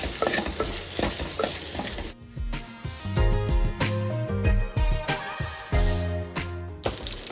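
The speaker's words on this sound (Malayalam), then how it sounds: "ആഡ് ചെയ്തതിന് ശേഷം നന്നായിട്ട് മിക്സ് ചെയ്തെടുക്കാം." Food frying in a pan during home lunch cooking is stirred vigorously, loud oily sizzling broken by repeated scraping and clattering strokes of a spoon against the pan, close up and without voices.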